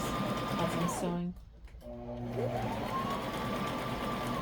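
A sewing machine stitching fabric layers with clear elastic for DIY diaper covers, its motor whirring steadily, pausing briefly and then speeding up again.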